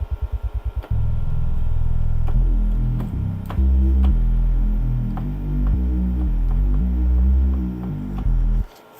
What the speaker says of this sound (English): This is what the heavy sub bass normally sounds like.